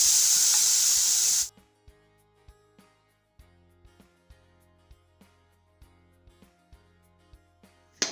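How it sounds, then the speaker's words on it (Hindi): Khoya hisses and sizzles loudly in a hot kadhai for a second and a half, then the sound cuts off, leaving soft, evenly spaced light taps. "कढ़ाई में डालूंगी खोया। खोए को मैं मेल्ट कर लूँगी।"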